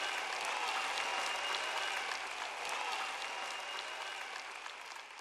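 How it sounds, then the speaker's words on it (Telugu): Audience applause at a sermon event, a dense continuous wash of many hands clapping that stays loud and slowly fades toward the end, with no talk over it. "చప్పట్లు కొడుతూ ఉండండి"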